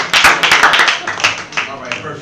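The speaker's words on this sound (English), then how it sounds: "Clap it up for our Instagram" Sharp, close hand claps from a small audience at a youth empowerment show, a quick irregular burst that thins out over a couple of seconds with voices mixed in.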